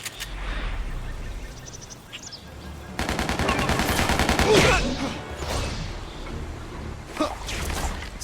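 Rapid machine-gun fusillades rattle in bursts through game combat in Spider-Man: Shattered Dimensions on Xbox 360, mixed with whooshes, effects and in-game character voices.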